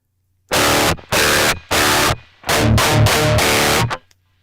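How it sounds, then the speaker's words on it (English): Electric guitar played through an Oblivion overdrive pedal alone: loud, heavily distorted chords in several thick bursts, the last few run together, then a quick stop. "That's the sound of the Oblivion, just on its own."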